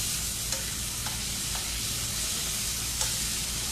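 Steak frying in a pan with butter and garlic gives a steady, dense sizzle that holds at an even level from start to end. A few faint clicks and scrapes of stirring sit under the hiss, and no one speaks.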